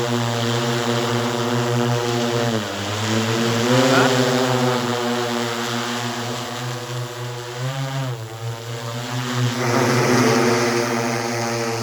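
Continuous buzzing whine of an agricultural spraying drone's multiple propellers, steady and fairly loud, over a farm field, with the pitch dipping and rising as the drone shifts speed.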